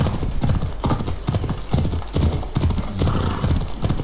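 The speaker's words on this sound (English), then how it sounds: "At least we can flee on a horse." Horse hooves galloping in Assassin's Creed Odyssey, a steady rapid clip-clop rhythm close up and fairly loud, with an occasional neigh and game ambience underneath.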